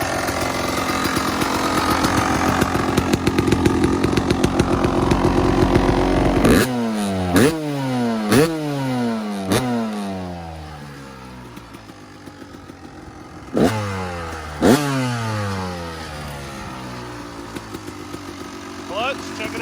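A Husqvarna WR250 dirt bike fitted with a Rekluse clutch idles loudly up close, then clunks into gear and revs in several rising bursts before settling, with someone talking over it.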